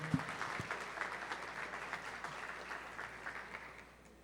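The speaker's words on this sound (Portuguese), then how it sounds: "Uma salva de palmas para a vereadora." Applause at a municipal council special session honoring a councilwoman, a faint, fairly distant crowd clapping steadily for a few seconds before fading out.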